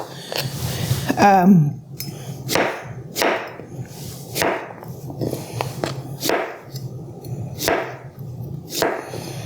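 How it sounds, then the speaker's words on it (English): Chef's knife slicing zucchini into rounds on a cutting board, about eight crisp chopping strikes at a steady unhurried pace, close and clear, with a brief rustle at the start. "So you can cut your zucchini traditionally in rounds."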